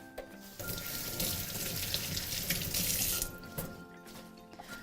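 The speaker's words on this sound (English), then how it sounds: "Always wash your herbs." Tap water running over fresh basil in a sink, a steady close gush and splash that starts abruptly and fades near the end, no talking.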